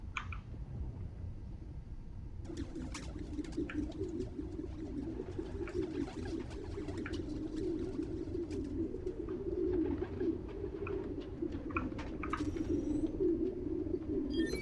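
Pigeons coo continuously in Spider-Man Miles Morales, a steady layered murmur of soft throaty calls with scattered faint chirps above, filling the whole stretch at an even level.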